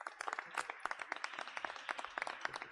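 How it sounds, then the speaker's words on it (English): Scattered applause at a public event with District of Columbia employees, individual claps from a small group audible as distinct irregular bursts at a fairly quiet, distant level. "I would like to give them a round of applause"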